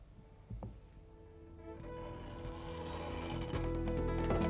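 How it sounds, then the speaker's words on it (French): A scribe or marker is drawn along a template to trace a hunting knife blade outline, giving soft, close rubbing and rasping strokes that build steadily, with a sharper scrape near the start. "avec ce gabarit, on trace, on fait le contour sur la lame"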